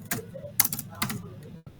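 Short bursts of clacking keystrokes on a computer keyboard, close and irregular, with a few louder taps and brief pauses between them.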